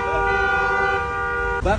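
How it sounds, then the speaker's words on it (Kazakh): A long sustained car horn blares in a traffic jam in Bishkek, loud and close, ending with a second horn. "Не надо сигналить, пожалуйста. Кто там сигналит?"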